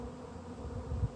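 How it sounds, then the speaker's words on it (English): A steady, low droning buzz of many bees, continuous and close, with a slight swell in loudness near the end. "we have caught a swarm of bees"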